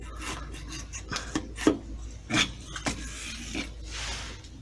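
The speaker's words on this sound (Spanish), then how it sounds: "Después la raspamos tranquilamente con una cuchilla." A blade scrapes a cane reed for a bagpipe chanter in short repeated rasping strokes, close and fairly quiet, with pauses between the strokes.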